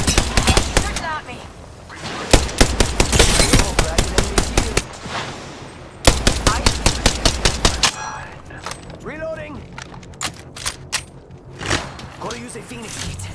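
Automatic weapons firing in the game Apex Legends, with long rapid bursts of loud gunfire broken by brief pauses, then scattered shots and game effects with a voice over them.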